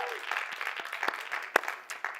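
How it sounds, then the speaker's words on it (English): Audience at a COP28 conference stage clapping, light scattered applause from a modest crowd with a few sharp individual claps standing out, fairly sparse and not loud. "So well done, yeah, round of applause."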